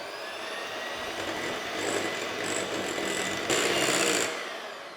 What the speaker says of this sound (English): We're going to whisk this together just until it thickens up.